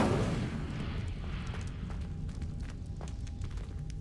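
In the video game Hogwarts Legacy, the Incendio fire spell erupts with a loud rumbling burst of flame that slowly fades into a low roar with faint crackles.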